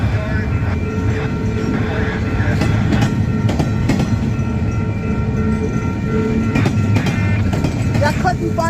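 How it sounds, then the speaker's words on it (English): A short Union Pacific freight train led by locomotive 2579 rumbles past nearby in St Paul, Minnesota, with steady loud rolling noise, rattling wagons and clicking wheels, and a horn sounding at times. "I figured the 2579 Union Pacific is actually a short train."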